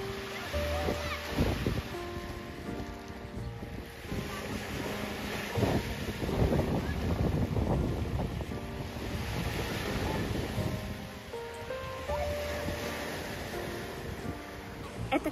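Sea waves washing onto a stone beach in Petrovac, Montenegro, a continuous rushing surf with gusty wind buffeting the microphone and rising swells, with faint tonal sounds from nearby.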